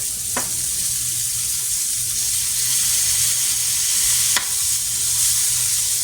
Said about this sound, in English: I'm going to flip them again. Let them cook for one more minute.